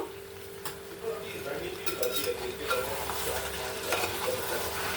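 Chicken curry is stirred in a pot, giving close, repeated scrapes and knocks of a spoon against the metal over a soft steady sizzle, with no talking.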